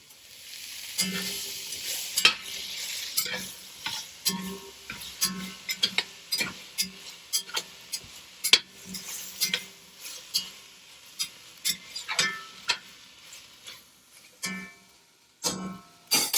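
Onions and tomatoes fry in a pot under a soft sizzle, with a spoon tapping and scraping in an uneven rhythm of distinct clicks over about sixteen seconds.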